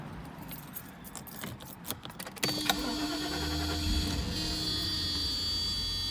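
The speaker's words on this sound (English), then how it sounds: "Let me get my key and start it up for you guys." Keys jingle and rattle for a couple of seconds before the engine of a 1992 Mercedes-Benz S-Class cranks and catches, then settles into a steady, even idle.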